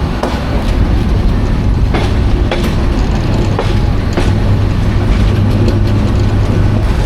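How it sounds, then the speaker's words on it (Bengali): The Bijoy Express passenger train pulls into a station in Bangladesh with a heavy, steady rumble, broken by sharp rhythmic clacks of wheels over rail joints. "ট্রেন থামুক দেখি আমরা ওই পাশে যেতে পারি কিনা"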